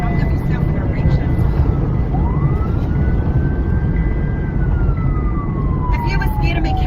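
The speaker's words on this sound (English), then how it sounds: "So turn your siren off." Police car siren wailing in long rising and falling sweeps, heard from inside a moving car over loud road rumble, with people talking in the car.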